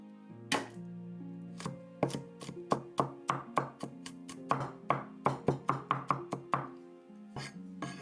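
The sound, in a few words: chopping garlic on a board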